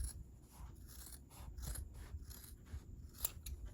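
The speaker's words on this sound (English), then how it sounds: "I'm going to take my scissors and I'm going to trim this side." Scissors snip along sewn fabric seams while trimming an ice cream pint koozie, a run of quiet, close, repeated cuts and rasps with no talking.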